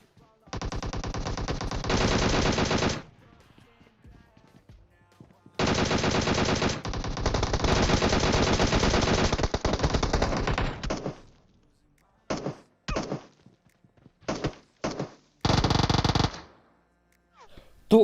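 Loud bursts of automatic gunfire from a DP machine gun in PUBG Mobile, two long sustained volleys followed by several short rapid bursts.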